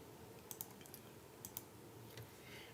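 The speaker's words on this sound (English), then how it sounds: "So I'm going to click on the first one" A computer mouse clicks a few times in close, crisp pairs, quiet and dry over a faint steady background hum, with no talking.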